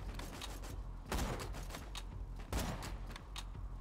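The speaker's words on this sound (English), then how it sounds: "A sneaky shooting through the hole in the floor." Gunfire in a first-person shooter game, fired through a hole in the floor: a few sharp broadband shots, with two heavier blasts standing out over steady background game noise and no talking.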